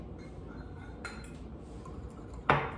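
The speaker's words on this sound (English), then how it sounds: "Give it another stir." A spoon stirs lemon curd in a pot, giving a soft scraping bed with a clink near one second and a louder, sharper knock of utensil against metal near the end.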